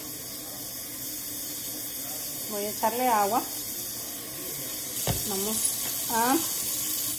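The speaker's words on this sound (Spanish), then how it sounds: "Voy a echarle agua." Water is poured into Salvadoran tamal pisque dough in a home kitchen, a steady soft hiss running throughout while someone speaks briefly over it.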